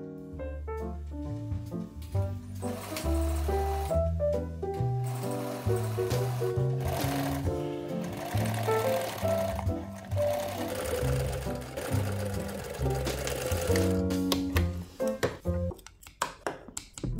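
A sewing machine stitches corset underlining fabric in long, fast, continuous runs close to the microphone, its motor whirring steadily with brief pauses and pitch changes between bursts.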